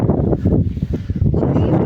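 Wind buffeting a microphone in loud, gusty rumbles that swell and ease over a couple of seconds.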